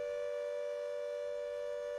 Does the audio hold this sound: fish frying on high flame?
no